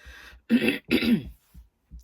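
Someone clears their throat in two quick rasping bursts, followed by a couple of faint, soft throaty sounds.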